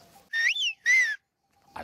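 A person whistles two short, rising-and-falling melodic phrases mimicking the word 'français', clear and close with a brief pause between, followed by a short breathy sound.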